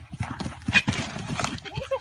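A horse neighing amid clopping hooves, several uneven thumps and a whinny close by, with voices talking over the commotion.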